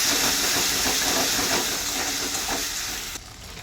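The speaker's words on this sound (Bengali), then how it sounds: "এবার এর মধ্যে আমি মশলাগুলো দিয়ে দেবো। মশলাগুলো দিয়ে ভালো করে কষে নিই।" Spices and tomato fry in a hot pan with a dense, loud sizzling hiss that holds steady and then drops off abruptly near the end.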